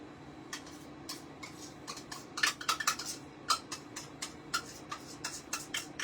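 Spoon and bowl clink and tick irregularly as apple butter is stirred into granola, light scraping taps growing busier midway, close and fairly quiet with no talking.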